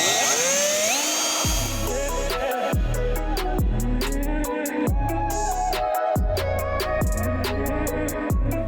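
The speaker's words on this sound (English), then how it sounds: "I'm just gonna drill it right through the holes as a template" A power drill whines in repeated short bursts while drilling through template holes for a fingerboard, revving up and cutting off about once a second, loud and close with no talking.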